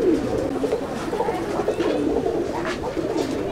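Chennai breed Jack Nasal pigeons coo in a loft, a steady low throaty murmur of several birds overlapping close by, with soft rustling and no talk.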